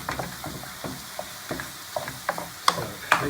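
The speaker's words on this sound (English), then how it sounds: "it's actually frying in far more intensity" Food frying in a pan, apparently boiled pieces being crisped, with a steady sizzle and a string of sharp spits and crackles that grow more frequent toward the end, close and fairly loud, with no talking.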